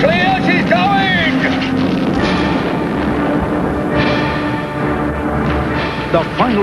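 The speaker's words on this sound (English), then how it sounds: "The final explosion tore the tramper apart." A ship explosion in a children's TV tug-boat drama, a loud sustained roaring blast with rumbling debris, overlaid with music and shouting voices.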